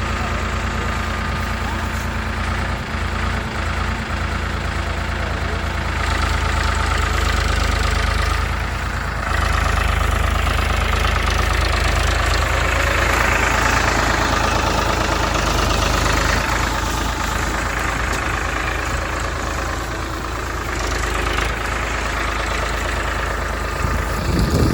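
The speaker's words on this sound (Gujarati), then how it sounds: "હવે ટ્રેક્ટર ચલાવીએ." A tractor engine runs for about twenty-five seconds, a steady, close, low rumbling drone at idle with a slightly knocking beat, and a voice is occasionally heard over it.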